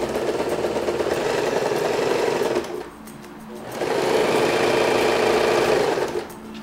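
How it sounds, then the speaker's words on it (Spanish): A domestic sewing machine set to a half-width zigzag stitch runs in two steady bursts of fast, even mechanical whirring, close and loud, with a brief pause between them. "Entonces ponemos la máquina en modo zigzag y la ponemos a la mitad, en el ancho de la puntada en la mitad."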